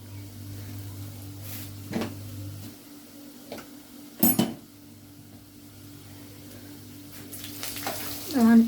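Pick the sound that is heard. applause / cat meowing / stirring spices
stirring spices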